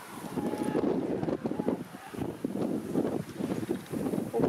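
Gusty wind buffets the microphone with low rumbling surges that rise and fall, a rough roar with no voices.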